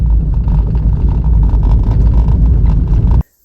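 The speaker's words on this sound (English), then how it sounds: "we're driving in a little deeper into the forest" A car drives along a forest road in the New Zealand wilderness, giving a steady, loud engine and road rumble that runs without a break and then stops abruptly near the end.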